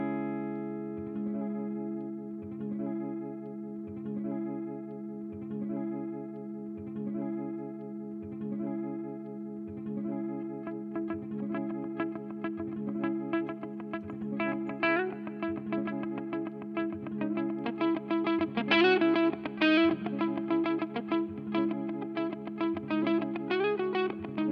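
An electric guitar plays through a Danelectro Reel Echo tape-style echo pedal, its repeated notes trailing audible repeats that thicken into a denser, slightly distorted wash as the playing builds.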